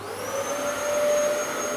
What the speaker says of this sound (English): Should I get the Hoover?